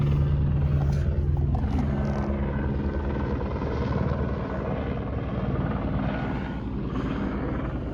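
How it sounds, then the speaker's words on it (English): A helicopter passes overhead at an outdoor dig site, its loud, steady rotor rumble filling the whole stretch and easing slightly as it moves on, with no talking. "Let that helicopter go by real quick."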